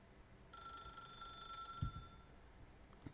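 A telephone rings in the video game The Stanley Parable: Ultra Deluxe, giving one steady, bright ring of about a second and a half, fairly quiet, followed by a couple of soft thumps.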